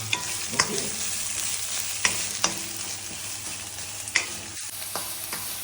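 Thinly sliced onions sauté in a pan for chicken ghee roast, a steady close sizzle broken by occasional scraping stirs of a utensil, with no talk.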